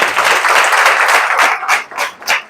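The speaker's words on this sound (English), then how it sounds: "I think you should clap for me again." Applause from a crowd of students at a secondary school: loud, close, dense clapping that thins toward the end into a few separate claps.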